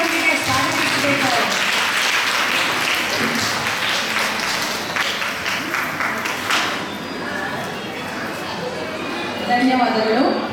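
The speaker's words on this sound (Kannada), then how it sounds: "ನೀವು ಜೋರಾದ ಚಪ್ಪಾಳೆಯೊಂದಿಗೆ ಸ್ವಾಗತಿಸಬೇಕು" An audience gives loud applause to welcome the judges at a singing performance in an echoey hall, a dense roar of clapping with voices mixed in that eases midway and then swells again.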